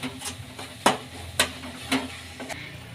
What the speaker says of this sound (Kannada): ಎಲ್ಲ ಮಿಕ್ಸ್ ಮಾಡ್ಕೊಳ್ಳೋಣ ಚೆನ್ನಾಗೆಲ್ಲ ಮಿಕ್ಸ್ ಆಗಲಿ